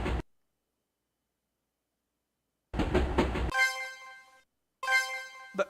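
A video game train rumbles past in a short noisy burst, then sounds tonal horn blasts, with silence between the bursts and no voices.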